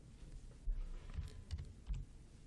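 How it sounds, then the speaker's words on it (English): Typing on a computer keyboard produces a few soft, quiet key clicks spaced irregularly over a low room hum. "I'm going to type in Anna's name in caps and take off my caps."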